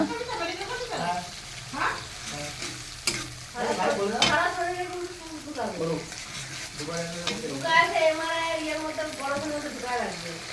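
Ginger-garlic paste, tomato paste and spices frying in oil while being stirred, with a soft sizzle and scraping under someone talking close to the pan.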